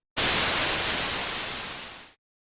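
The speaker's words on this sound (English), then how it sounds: "So we have white noise. I went from 1 to 0 over the course of 2 seconds." Synthesized white noise, a bright full-band hiss, starts abruptly and fades steadily and linearly toward silence over about two seconds before cutting off.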